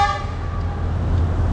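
A distant train horn blares briefly over a steady low rumble, fading as it goes, in Sri Lanka.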